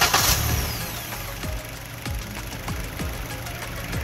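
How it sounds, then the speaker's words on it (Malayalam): A Maruti Suzuki Swift four-cylinder petrol car engine cranks and catches with a short burst, then settles into an even idle with a regular knocking pulse, heard up close without talk. "നമുക്ക് സ്വിഫ്റ്റിന്റെ എഞ്ചിൻ സ്റ്റാർട്ട് ചെയ്യാം."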